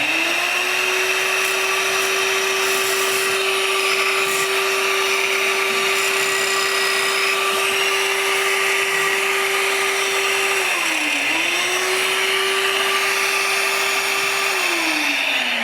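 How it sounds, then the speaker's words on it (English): A small desktop sander with a vacuum attachment working on wood hums in a steady high-pitched whine throughout, dipping briefly in pitch once before recovering, loud and continuous with no voices. "So I have a little desktop sander. I'm just going to change the vacuum attachment to pick up all that sawdust."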